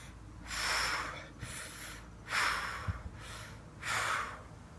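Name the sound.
deep breathing during kettlebell swings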